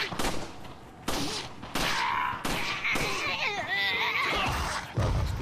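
Gunshots in the Resident Evil 4 VR video game, a series of sharp, loud shots spaced about a second apart, mixed with game character voices and effects.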